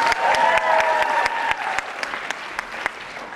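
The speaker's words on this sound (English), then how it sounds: "Give a round of applause." Audience applause for pageant contestants at a formal wear competition: a steady crowd clapping that thins out, with sharp individual claps standing out as it fades.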